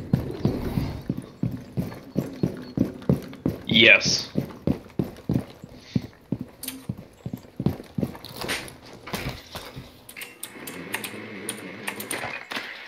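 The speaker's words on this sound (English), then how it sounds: "I heard the footsteps, and I don't think they actually went outside." Enemy footsteps in the video game Rainbow Six Siege thud in a steady rhythmic series of distinct close steps, followed by scattered clatter, with a brief spoken word partway through.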